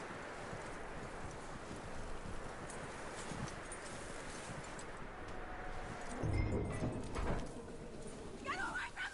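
Horse hooves clip-clop at a walking pace in the Red Dead Redemption 2 video game, steady and fairly faint, mixed with wind and ambient noise, with a brief sharper sound near the end.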